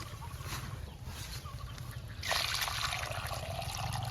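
Water is poured slowly and trickles steadily, faint at first, then grows louder and splashier partway through, with no talking.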